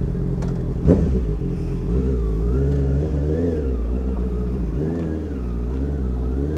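A Honda CBR 650R motorcycle engine runs at the start of a ride, a steady, close, mid-pitched rumble with gentle rises and falls in revs and a brief click near the start.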